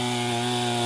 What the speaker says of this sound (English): Had to grab a 3rd chainsaw.